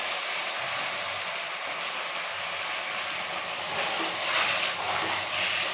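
Tomatoes sautéing in a pan for a vegetable gravy, a constant close hiss of frying that grows a little louder and brighter toward the end, with no talk.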